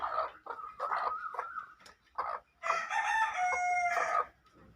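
A rooster crows loudly and nearby amid clucking chickens in a rural village yard, with short cackling bursts followed by a long, strained crow.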